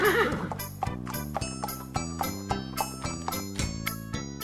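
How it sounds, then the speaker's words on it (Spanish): A cartoon horse whinnies at the start, then steady clip-clop hoof beats sound over a cheerful musical backing, with a light jingle, at a farm ramp in a children's truck animation. "¿Quién va primero? ¡El caballito!"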